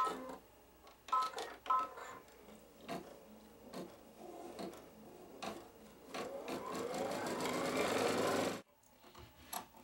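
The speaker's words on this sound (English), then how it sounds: "now we're going back to the sewing machine" A sewing machine stitching an apron runs in uneven bursts, quick rattling pulses and brief pauses, then a steady fast run that cuts off abruptly near the end.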